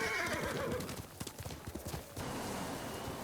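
A horse whinnies in a video game, then hooves clip-clop in a quick uneven rhythm, close and fairly clear, followed by a steady rushing background.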